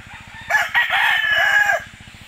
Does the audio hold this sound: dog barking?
no